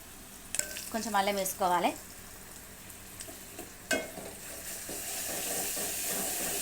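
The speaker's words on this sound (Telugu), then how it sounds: "గోలిన తర్వాత ఉల్లిగడ్డ పచ్చిమిరపకాయలు గోలిన తర్వాత కొంచెం అల్లం వేసుకోవాలి" Onions, green chilies and ginger fry in a pan for brain curry, starting as a quiet sizzle with a brief voice-like sound and a few clinks, then growing into a louder, steady, close hiss toward the end.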